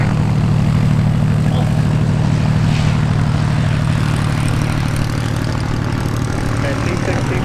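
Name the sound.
T-6 aircraft taxiing at Oshkosh AirVenture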